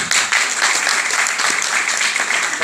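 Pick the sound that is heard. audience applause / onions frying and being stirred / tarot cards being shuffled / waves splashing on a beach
audience applause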